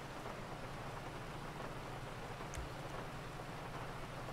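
Rain falls steadily outdoors near a police traffic stop in a roleplay game. It is an even, constant patter at low level with no voices.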